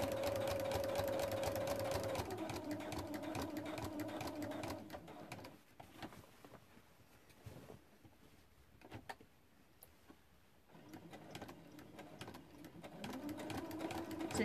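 A sewing machine stitching applique circles runs with a fast, steady mechanical whirr, slows and stops through the middle with small shuffling sounds, then starts stitching again near the end.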